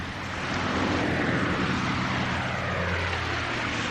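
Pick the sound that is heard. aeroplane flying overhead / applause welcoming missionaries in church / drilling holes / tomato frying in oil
aeroplane flying overhead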